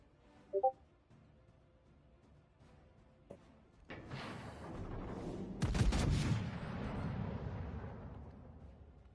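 Battleship gunfire in the naval video game World of Warships Legends, with a few faint early pops followed by a heavy, rumbling salvo that booms and then rolls on as a sustained roar.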